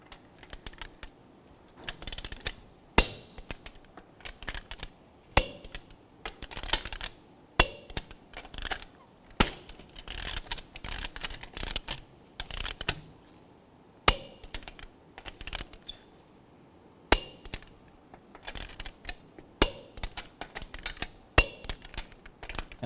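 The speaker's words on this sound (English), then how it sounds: "Go ahead and torque your 5 lug nuts in a star pattern" A torque wrench ratchets five lug nuts in a star pattern on a 2012-2016 Subaru Impreza wheel, with bursts of quick, dry clicking that come in clusters with short pauses between them, close and fairly loud.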